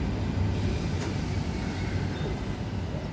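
S-Bahn S7 commuter train headed toward Wolfratshausen rolling past, a steady, close, loud rumble of wheels and carriages that holds for the whole stretch with no voices.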